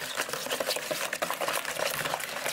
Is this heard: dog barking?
no